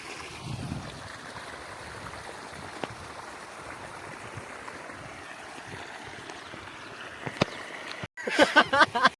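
Irrigation water running freely through a field channel, a steady broadband rush and trickle heard outdoors, with brief louder splashing bursts near the end.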